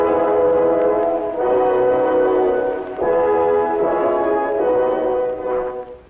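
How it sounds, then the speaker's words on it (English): Old low-fidelity music recording with a narrow, muffled band and no crisp highs, a continuous swelling passage of instruments playing without voices. "You'll hear old sound like this."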